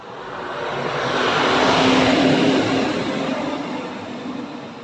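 A Toyota Tamaraw FX engine is cranked and started, a broad mechanical roar that swells to a peak midway and then holds steady, close and loud, with no talking.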